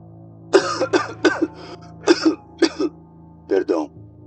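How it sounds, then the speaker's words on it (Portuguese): A man gives a series of dry, harsh coughs in short bursts of two or three, close and loud, with brief pauses between them and a low background hum. "Eu comecei a tossir do nada."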